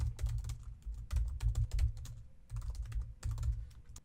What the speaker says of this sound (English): Then I'm just going to start typing a function.